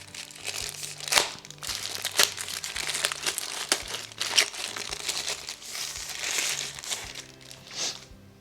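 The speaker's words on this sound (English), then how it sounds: "Let's get out the packaging." Packaging for a DJI Osmo Pocket extension rod being unpacked: steady close crinkling and crumpling of plastic wrap with sharper rustling bursts throughout, no speech.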